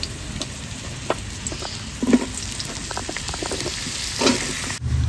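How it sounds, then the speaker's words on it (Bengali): Pointed gourds (potol) frying in a pan, with a steady close sizzle and occasional stirring scrapes throughout. "পটলগুলো আমি ভেজে নেবো।"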